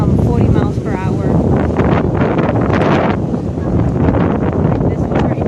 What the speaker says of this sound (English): We're still getting some gusts coming through up to 40 miles per hour.